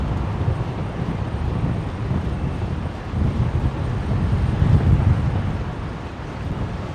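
A QantasLink Dash 8 turboprop at Brisbane airport gives off a continuous rumbling drone that swells slightly midway, heard outdoors with wind buffeting the microphone.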